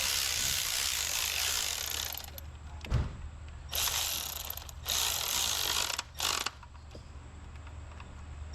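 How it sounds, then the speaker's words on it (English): A hand ratchet tightens bolts on the high pressure fuel pump of a BMW X1, giving several quick clicking bursts with short pauses between them over a steady background hum, close and fairly quiet. "So now we're going to tighten the bolts for the high pressure fuel pump."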